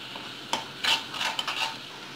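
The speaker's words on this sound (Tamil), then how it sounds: "போட்டு நல்லா மிக்ஸ் பண்ணிக்கலாம்" Asafoetida and turmeric being stirred into rasam in a metal pot, a few separate scraping clinks and utensil knocks, close and fairly quiet, with no talking.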